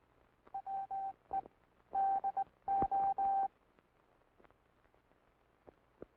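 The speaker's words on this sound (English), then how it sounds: "Listen to the sounds of the key. These sounds are transmitted in International Morse code." A 1944 US Navy hand telegraph key sends International Morse code as a clear steady tone, with short dits and longer dahs in two brief groups, followed by quiet with faint clicks.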